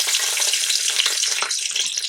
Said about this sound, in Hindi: इसमें अब आप डालेंगे सबसे पहले चंद हरी मिर्चें